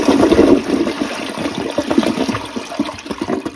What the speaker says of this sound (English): So I filled the toilet back up, turned the water supply back on, and let's give it a flush and see what happens here.